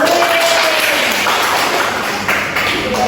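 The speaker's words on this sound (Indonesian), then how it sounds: "Oke, tepuk tangan buat kalian." Junior high students clapping their hands in a classroom after a lesson, a brief loud burst of group applause lasting about three seconds with no voices on top.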